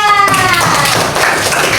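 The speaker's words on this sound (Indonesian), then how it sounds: "Tepuk tangan untuk kelompok 2" A class of fifth-grade pupils claps for the second group after its water-cycle presentation, a quick, dense patter of small hands that follows a brief tonal sound at the start, with a voice faintly mixed in.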